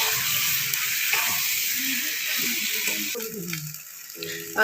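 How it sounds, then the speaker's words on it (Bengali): Potatoes fry with spices in a pan for aloor dom, a steady close hiss and sizzle running throughout while a person talks over it. "আবার আলুটা দিয়ে দিলাম আলুটা ভালো করে কষে নেবো"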